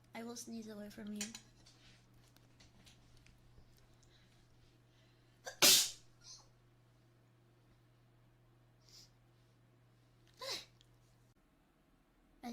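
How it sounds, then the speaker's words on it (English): One sharp, loud sneeze from someone cuts through a quiet room with a steady low hum, followed by a smaller sneeze-like burst later and faint clinks in between. "I must sneeze. I will sneeze away from you."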